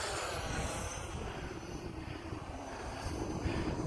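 An Eflite SU-30 twin 70mm EDF model jet takes off, giving a steady, loud whooshing ducted-fan roar that runs the whole clip with no break.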